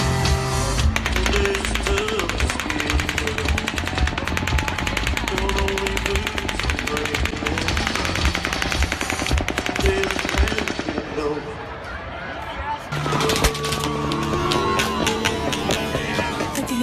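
Rapid bursts of automatic gunfire crackle over live country music and crowd noise at the Route 91 Harvest festival in Las Vegas, repeating in long volleys, with a short lull before the shooting resumes.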